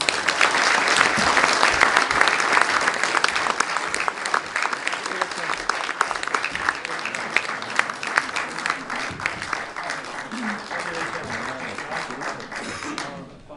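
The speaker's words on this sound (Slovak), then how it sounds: "prosím potlesk" A seated audience at a public discussion forum on freedom of speech breaks into sustained, dense applause for a speaker stepping onto the podium, filling the whole stretch at steady loudness before gradually thinning slightly.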